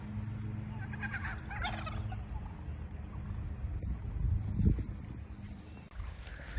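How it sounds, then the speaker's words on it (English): Chickens let out of their coop call and cluck in an outdoor yard, several birds at moderate distance over a steady low wind-like rumble, with a brief louder burst near the end. "we've let the chickens out and we're supposed to put them back into the coop"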